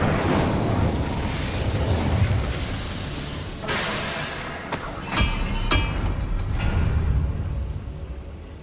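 Casting the Incendio fire spell in Hogwarts Legacy produces a bright whooshing burst followed by a few sharp crackling pops and clinks over continuous game ambience, moderately loud.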